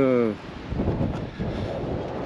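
Strong wind at sea off Cape Verde, near Fogo, roaring as a steady broadband rush into the microphone after a brief voice at the start.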